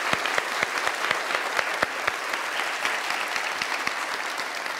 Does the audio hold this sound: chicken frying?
no